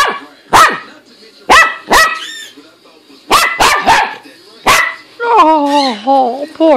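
Close, loud dog barking in short sharp bursts, several barks spaced across the moment, ending in a drawn-out whining yowl.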